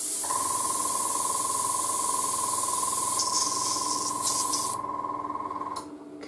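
An airbrush sprays steadily during cleaning between colours, a continuous close hiss with a fixed whining tone that lasts several seconds before tapering off near the end.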